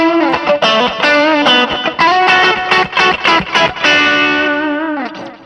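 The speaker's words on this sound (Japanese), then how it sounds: "この歪みの良さは殺さずにディレイ音だけ足して出してくれてる感がある" Overdriven electric guitar played through a Universal Audio tape echo delay pedal, a loud distorted run of picked notes and chords with repeating echoes trailing after each attack, ending in a sustained fading chord, no talk.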